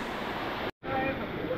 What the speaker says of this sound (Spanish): hemos llegado a la cascada